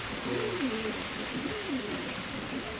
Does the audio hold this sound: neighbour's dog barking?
no